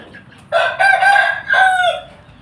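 A bantam chicken crows loudly and close by in two strong bursts, the second slightly shorter, against a quiet farmyard background.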